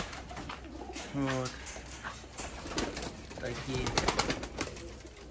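Domestic pigeons coo in repeated low throaty bursts nearby, with someone talking over them and light rustling in the loft.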